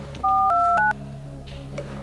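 A telephone number is dialed on a phone as a run of several quick, clear keypad tones in close succession, sounding over a low background hum.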